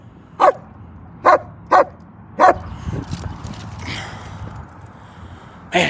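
A German Shepherd barks four sharp, loud times in quick succession, then pants and rustles nearby before one more bark at the end.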